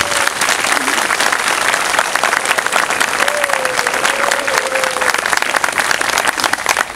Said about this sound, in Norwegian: jeg får en liten applaus.